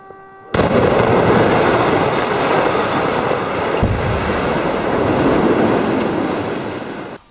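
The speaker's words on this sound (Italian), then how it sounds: "Due rintocchi di una sirena, poi l'esplosione e in pochi attimi va giù parte di un edificio situato nella zona industriale di Polla" Controlled demolition of a disused former pasta factory building in an industrial zone in Polla, Italy: a sudden loud blast gives way to a sustained, dense roaring rumble of the collapse that slowly fades.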